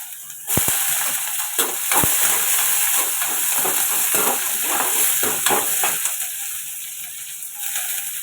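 Onions frying in hot oil with mustard seeds for sweet potato bonda, a loud steady sizzle and hiss with a sharp burst as they hit the pan, then repeated scraping stirs of a spoon against the pan.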